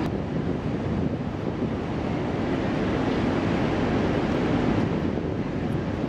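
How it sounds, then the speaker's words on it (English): Huge ocean surf rolling in along the Southern California coast during a big swell, a steady, loud broadband roar of breaking waves mixed with wind buffeting the microphone, with no voices. "you've seen some of the big waves that came rolling through Southern California in this recent swell"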